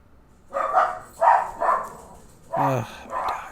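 Dogs bark in a video game, five sharp separate barks spread over a few seconds, loud and near, with short pauses between them and no talking.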